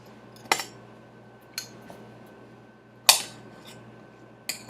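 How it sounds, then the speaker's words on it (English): Knife chopping bread and butter pickle chips on a board: a few sharp, separate chops spaced apart, close and fairly loud over a quiet kitchen hum. "pull a couple out of the jar and then chop them up"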